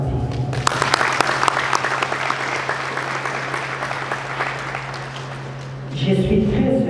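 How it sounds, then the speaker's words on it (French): Audience applause at a political gathering in Goma, steady dense clapping filling the room for several seconds beneath a sustained low hum, with a voice speaking over the end. "Et je vais demander à vous-même, vous puissiez nous applaudir."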